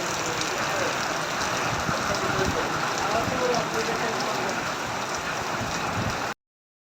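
Heavy rain pouring on a road, heard as a dense, steady hiss of drops on surfaces that stays loud and even until it cuts off abruptly.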